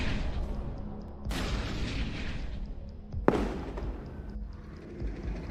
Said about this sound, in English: A second missile is launched and hits as well.